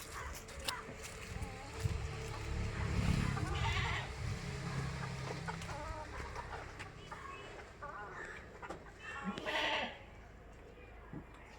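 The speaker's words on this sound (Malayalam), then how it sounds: "വലിയൊരു ക്രോസ് ബീഡ് ആട്." A large crossbreed goat of about 40 kg, kept grazing in an open yard, bleats a few times at moderate distance, with a louder call near the middle and another toward the end, while someone talks and other farm animals sound faintly around.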